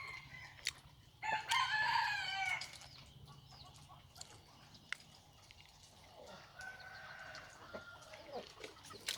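A rooster crows loudly once nearby, followed by scattered chicken clucks and soft farmyard noise in the background.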